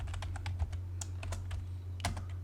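A computer keyboard typed quickly while entering an AutoCAD command shortcut, a close run of crisp key clicks ending in one firmer press, over a low steady hum.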